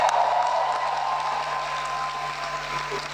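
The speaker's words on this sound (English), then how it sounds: "give yourselves a round of applause." Conference audience at the 22nd annual WIMBIZ gathering applauding steadily throughout, a dense wash of clapping that fades only slightly toward the end, with a faint steady hum underneath.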